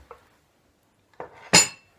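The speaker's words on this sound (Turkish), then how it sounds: "Bu da çorba tenceresi." A metal soup pot, part of a 12-piece Karaca dinnerware set, clinks and clanks a few times as it is handled, with a brief quiet pause between the first tap and two closer knocks.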